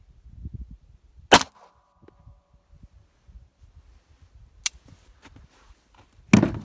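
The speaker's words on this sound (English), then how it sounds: "Next up, 9mm out of this Beretta 92FS" A 9mm Beretta 92FS pistol fires at a tractor tire outdoors, giving one sharp, loud report early on. Two more abrupt bangs follow later over light wind rustle.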